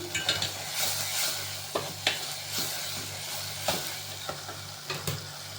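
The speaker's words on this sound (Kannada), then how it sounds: "ನಾನು ಸ್ವಲ್ಪ ಕರಿಬೇವು ಸೊಪ್ಪು ಹಾಕ್ತಾ ಇದ್ದೀನಿ" Curry leaves sizzle and crackle in hot oil in a pan while a green moong dal curry is being cooked, with steady frying hiss and a few sharp stirring clicks, close and alone without speech.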